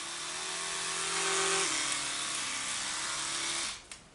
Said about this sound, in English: Toothbrush.